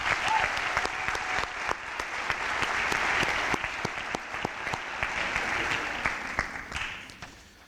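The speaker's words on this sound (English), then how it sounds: "please join me in applauding these individuals." An audience at a university athletic department ceremony gives seniors a long, steady round of applause with sharp individual claps standing out. It stays loud and even throughout, then thins and fades near the end.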